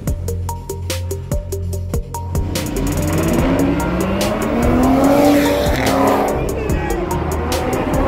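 Race cars, including an Audi TT RS, accelerate in a roadside street race in Botswana, engines rising in a long rev as tires squeal and skid loudly, over steady crowd chatter and background music.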